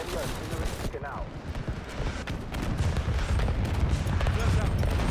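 An artillery strike in Call of Duty: Modern Warfare, with a continuous barrage of blasts and gunfire that grows heavier and louder toward the end, and brief voice chatter early on.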